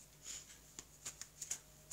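Soft papery clicks and light slaps of tarot cards handled close by, with several brief taps in an irregular rhythm, quiet and without talk.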